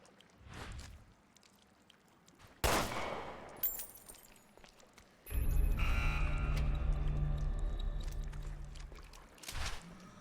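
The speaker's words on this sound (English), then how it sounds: "Let me try shooting it down." Gunfire in Resident Evil Revelations 2 as a character shoots at an out-of-reach key, with sharp bursts and a sustained rumbling stretch of shots and clatter, loud against quiet game ambience.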